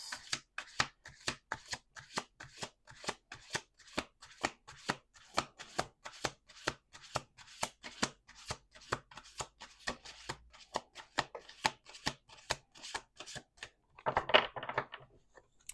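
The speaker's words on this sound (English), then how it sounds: "2 more shuffles." Tarot cards are shuffled over and over in quick, even riffling strokes, close and crisp, with a louder flutter near the end and no talking.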